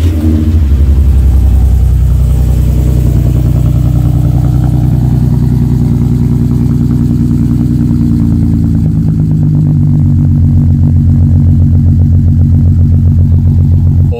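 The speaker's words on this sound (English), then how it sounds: "I did rear muffler delete" A car engine with its rear muffler deleted revs hard and loud up close, a deep booming drone that rises and settles, then rumbles on with a raspy, crackling exhaust note.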